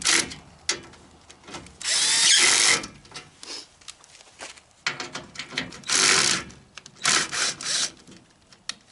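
Bolts being tightened with a power drill or driver on a Ford F250 step bar: several loud, sustained whirring bursts of a couple of seconds each, separated by short pauses and small clanks.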